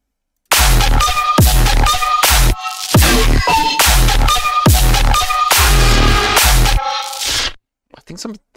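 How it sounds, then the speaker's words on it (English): Music with a strongly reverberant, washed-out sound, loud and continuous with rhythmic stabs, fading into a few faint tails at the end. "Wait, I feel like I have a lot more reverb now."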